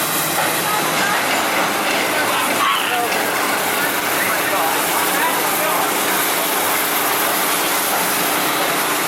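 Phantom's Revenge roller coaster train running at Kennywood amusement park, a continuous loud rushing roar with a rattling rumble that holds steady throughout.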